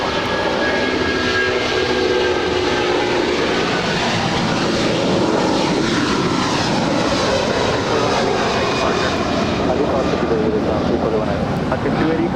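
United airliner landing on runway 25 left at Los Angeles International Airport, a loud continuous engine roar and rushing noise, steady throughout and heard from nearby.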